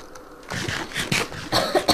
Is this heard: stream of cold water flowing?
no